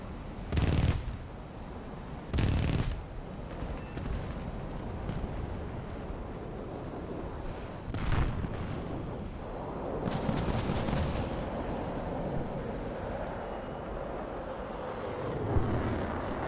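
Ground fire aimed at an aircraft in a flight combat game, with several sharp loud bursts early on and again near eight seconds over a steady jet engine roar, then a swelling whoosh, and no talk.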